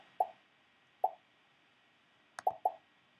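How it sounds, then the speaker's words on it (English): A pop sound effect from Scratch plays several times, short, bright plops, two spaced singly, then a quick cluster of three, crisp and isolated against near silence. "So right now you'll hear a pop."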